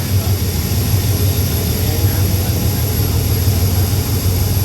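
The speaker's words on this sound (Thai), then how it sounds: "เบิ้งเครื่องนะครับผม" An old wood-fired steam locomotive more than 100 years old, running: a loud, steady, close roar with a deep low rumble throughout, and a voice speaking over it.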